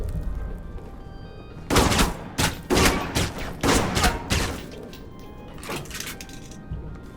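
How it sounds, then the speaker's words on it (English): Gunfire and grenade blasts erupt in the video game Alpha Protocol, with loud bursts of rapid shots and heavy thumps in several clusters, tapering to sporadic shots at the end. "Oh, the grenades!"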